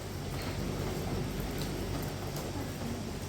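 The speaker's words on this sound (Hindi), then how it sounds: "आधी रात से बारिश लगातार है।" Steady rain falling over Delhi at midnight, a continuous broadband hiss with faint low rumble underneath, even and unbroken throughout at a moderate level.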